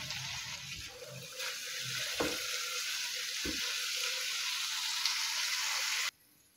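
Fenugreek leaves (methi) sizzle and fry steadily in a pan, a continuous hiss with a few clinks of a stirring utensil, the frying cut off abruptly near the end.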